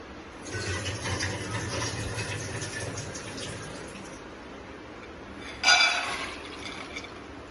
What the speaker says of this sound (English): I'll just show you one moment how much water I'm adding in it.